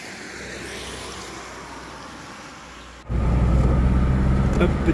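A car overtaking on a road in Romania, heard from inside the vehicle: a steady road rumble that suddenly jumps louder halfway through as the engine pulls hard, with a voice talking over it.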